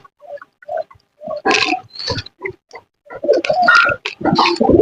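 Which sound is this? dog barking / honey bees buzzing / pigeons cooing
pigeons cooing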